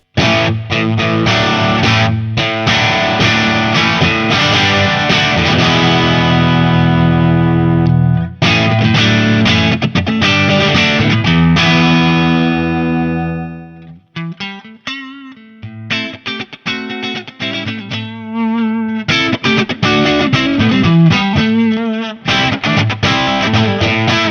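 Heavily overdriven electric guitar through a Tech 21 Hot-Rod Plexi pedal rings out loud chords and riffs, with a brief dip midway before crunchy playing resumes.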